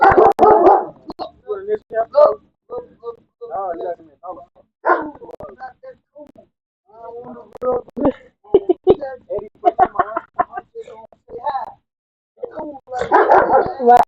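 A dog barks and yips in bursts close by, with short whimpering sounds, alternating with a person's voice in a back-and-forth over several seconds.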